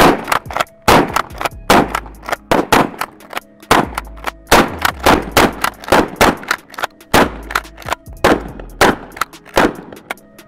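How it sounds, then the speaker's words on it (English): Two 12-gauge shotguns fire repeatedly into a stack of T-shirts, sharp loud blasts arriving in quick irregular bursts, often overlapping, with short gaps between volleys outdoors. "Two 12-gauge shotguns against 85 shirts, they don't stand a chance."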